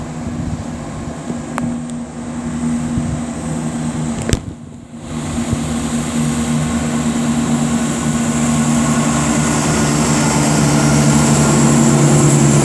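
Cross-country train 17109 pulling out of Peterborough station on the Birmingham New Street to Stansted Airport service: a steady, close diesel engine drone that builds slowly, with a brief clunk partway through.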